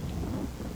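A brief stretch of stormy weather in Farming Simulator 22 on the Calmsden farm: steady rain patters under a deep, rolling thunder rumble, continuous and close, with no talking.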